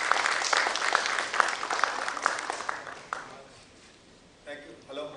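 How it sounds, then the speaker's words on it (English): Audience applause at an international coatings and ink industry conference: a dense burst of clapping that is loud at first, then thins and fades over a few seconds before a brief quieter flutter. "Let us welcome him with your applause,"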